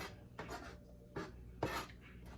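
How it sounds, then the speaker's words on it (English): A knife chops onions on a cutting board for Southern fried cabbage, making a few soft, close strokes with scraping and knocks, quiet and irregular with gaps between cuts. "So you're just gonna chop your onions down like that."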